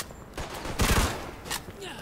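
Gunfire from a shootout in the video game Mafia II, with a loud burst of shots near the middle of the clip, a smaller burst later on, and voices shouting between the shots.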